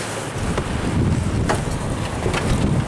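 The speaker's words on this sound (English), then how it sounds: "it's windy outside" Wind blowing outdoors near a house and carport, a steady broad rushing roar with low rumbling buffets against the microphone, loud and continuous with no speech over it.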